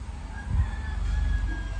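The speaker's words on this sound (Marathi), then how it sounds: "आवाज कोंबड्यांचे आवाज" Roosters crow at dawn in a quiet rural village, their calls drawn out and moderately distant over a steady low background hum, with no talking.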